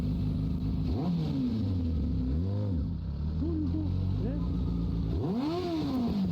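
A motorcycle engine revs and rises and falls in pitch as it rides past nearby, loud and continuous over steady background noise.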